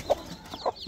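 A mother hen of the green-egg-laying Cheonggye breed, just done hatching chicks, gives two short, close clucks about half a second apart over quiet background.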